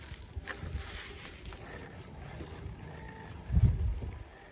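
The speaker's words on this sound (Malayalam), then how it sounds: "നല്ല കാറ്റുണ്ട് കേട്ടോ ഇവിടെ" Gusty wind buffets the microphone in low rumbling surges, with a stronger blast near the end, outdoors and otherwise quiet.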